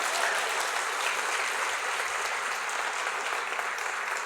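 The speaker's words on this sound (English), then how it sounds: "Please give them a round of applause." A conference audience applauds volunteers and production staff at a closing keynote: dense, loud, continuous clapping that fills the room evenly with no voices on top.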